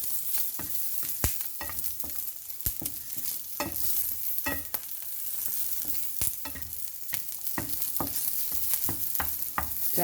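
Indian gooseberries fry in a pan with a continuous sizzle, punctuated by regular sharp taps and scrapes from stirring, close and steady throughout.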